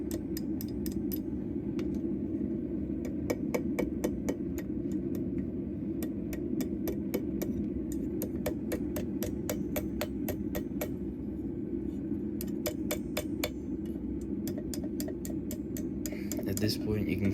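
A hammer rings out in quick bursts of sharp metallic strikes on an anvil as a tent stake is forged into a hair pin, the clusters of blows sounding over a steady low drone while someone talks throughout.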